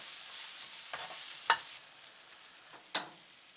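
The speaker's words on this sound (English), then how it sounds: "Add the mushrooms and a pinch of salt. Stir from time to time for 5 minutes." Mushrooms with a pinch of salt frying in a pan, a quiet steady sizzle broken by two sharp spatula scrapes and a softer tap, no voices.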